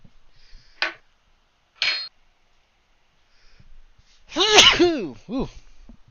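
One close, loud human sneeze with a short follow-up burst, after two sharp clicks in an otherwise quiet room.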